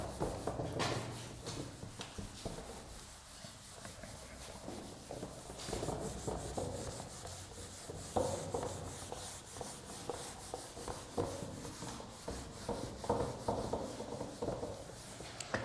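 Writing is rubbed off a classroom board in a steady run of soft scrubbing strokes. The sound is close and faint, with no voices.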